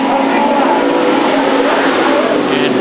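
Hobby stock race cars roar off together at the start of a heat race on a dirt oval speedway, a loud continuous engine drone with revving throughout, a commentator's voice faint underneath.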